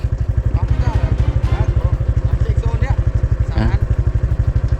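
A motorcycle engine chugs steadily with a rapid low throb throughout, while people talk nearby over it.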